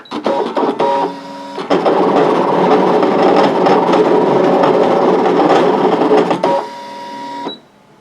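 An electronic craft cutting machine cutting material on a mat, with loud, close whirring and motor hum as the carriage moves and stops in steady stretches. The whirring winds down at the end.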